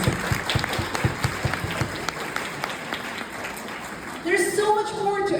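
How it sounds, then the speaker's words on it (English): Applause from a conference audience rolls steadily, loud and close, then fades as a voice starts speaking near the end. "Let's just give another round of applause for her, please."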